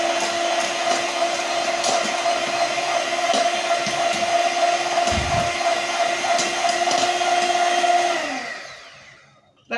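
Electric mixer whipping egg whites and sugar for a Mother's Day bake, a steady close whirring drone that holds for about eight seconds and then winds down to silence.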